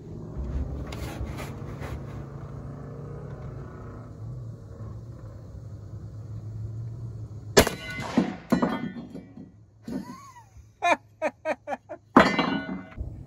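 Rifle shots from a long-barrel Vepr AK chambered in .308 (7.62x51 NATO) strike body armor outdoors, sounding as several sharp, loud reports and impacts in the latter half after a low steady rumble.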